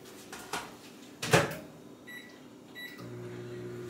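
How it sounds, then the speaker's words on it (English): A microwave oven runs while heating food for a wrap, giving a steady low hum that starts near the end, preceded by a few brief beeps and a cupboard or door clunk. "jump right in the microwave with this and let this do its thing"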